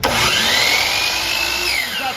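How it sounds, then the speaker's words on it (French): A French-speaking worker's angle-cutting power saw spins up and holds a loud, high whine at close range, the pitch rising as the blade reaches speed. "quand je démarre la scie"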